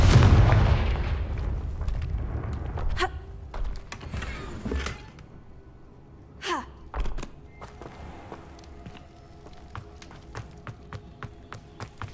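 Confringo blasting spell in Hogwarts Legacy: a heavy boom opens, followed by scattered thuds, cracks and impacts of varying loudness amid game ambience, with a voice briefly present.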